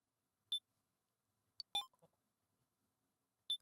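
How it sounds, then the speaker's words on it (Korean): Sparse electronic telephone dialing beeps in a video game: a few short, isolated tones separated by silence, sharp and clean. "조는 전화를 걸기 시작했다."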